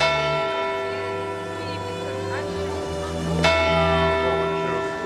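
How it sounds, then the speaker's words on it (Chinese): The clock tower bell in Bern's old town strikes the hour, its long ringing tones hanging in the air, with a fresh loud strike partway through and people talking nearby. "旧城区里的钟楼每到整点啊，就有一堆游客痴痴的望着它呢，都嘛是在等敲钟的那一刻"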